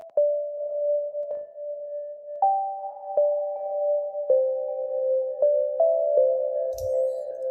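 A clean, sine-like lofi synth melody of sustained tones steps between a few pitches, each note trailed by soft repeating echoes from a delay plugin; a brief noisy burst near the end.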